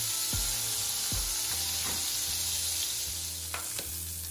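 Lamb chops sear in a hot pan with a steady, bright sizzle. A few low thuds and clunks of the pan or utensil break through it at intervals.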